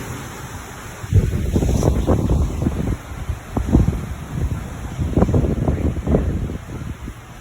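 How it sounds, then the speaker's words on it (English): Strong gusts of wind from Hurricane Ian in central Florida buffet the microphone in loud, rumbling surges that rise and fall over several seconds. "wind has really picked up."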